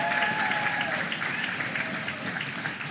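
Congregation slapping their Bibles together in a Spanish-language church service, a dense, steady patter of many hands striking books that sounds like sustained applause, with faint voices underneath.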